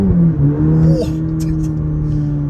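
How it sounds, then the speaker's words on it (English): A 2023 Cadillac CT4-V launches hard from a standstill, its engine note loud and close as it climbs sharply and then holds a strained, steady pitch, with a voice talking over the engine. "put all the power down off the line, and I can see you do 0 to 60 in under 5 seconds"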